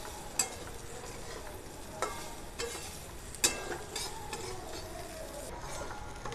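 Drumstick curry with ground spices being stirred in a pan, soft scraping strokes with a few sharper spoon clicks against the metal over a faint low sizzle, close and quiet, with no talking.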